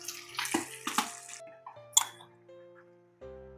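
Leeks rinsed under a running kitchen tap while making cheese-and-leek soup, with splashing water, a few sharp clinks and a short pause before the flow resumes.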